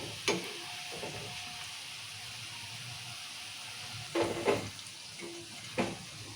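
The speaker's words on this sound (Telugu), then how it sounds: "సో మంచిగా క్రిస్పీగా అయ్యేటట్టు ఫ్రై చేసుకోవాలి" Peanut pakodi deep-frying in hot oil, a continuous low sizzle with a few brief bursts of clinking and stirring from a utensil, close and fairly quiet.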